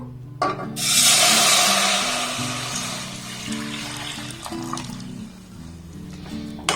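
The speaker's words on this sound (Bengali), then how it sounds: "এবার এই মিষ্টনটাকে আমি কড়ার মধ্যে দিয়ে দেবো" A grape sweet mixture made with cornflour is poured into a heated kadai, giving a broad rushing, sizzling pour that swells at the start and gradually fades, with a low hum beneath.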